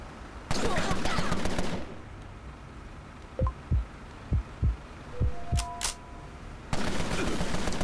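Gunfire in the Empire of Sin video game, with bursts of rapid shots at the start and end framing a run of single heavy booming hits and short electronic tones in the middle, loud and close with no voices.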